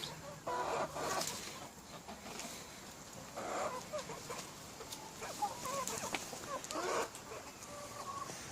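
Backyard hens and a rooster cluck in scattered short bursts at moderate distance, with faint chirps and background noise between calls.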